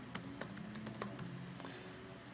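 Quick irregular keystrokes on a computer keyboard, close and fairly quiet, tapping in short bursts with no voices over a low steady room hum.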